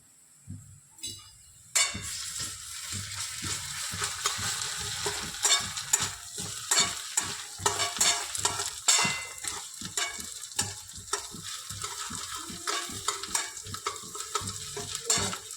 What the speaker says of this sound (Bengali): এই আস্তে আস্তে ভাজ।